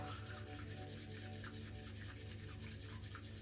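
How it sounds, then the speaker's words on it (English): An electric milk whisk frothing matcha tea gives a faint, steady whirring hum with a light continuous rubbing texture, unbroken for the few seconds and without speech. "Then you are beautifully whisking the matcha."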